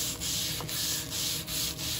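A coarse abrasive pad scrubs back and forth across a warm Wolf griddle surface, making loud, rhythmic rasping strokes with brief dips between each pass, heard alone and close up.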